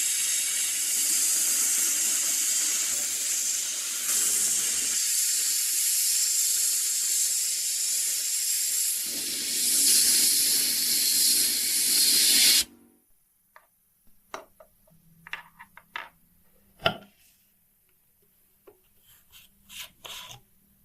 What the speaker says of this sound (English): He cleans the main drive gears using fine grit sandblasting to restore the original brightness of the